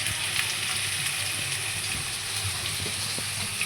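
Curry leaves frying in hot oil in a pan, a steady hissing sizzle with crackle running evenly throughout, fairly close and alone without talk.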